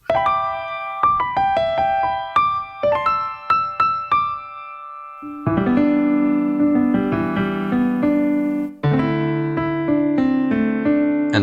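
A Casio AT-3 keyboard plays melodic notes in its standard octave tuning, first as short plucked single notes, then as sustained organ-like chords, close and clear with no talking.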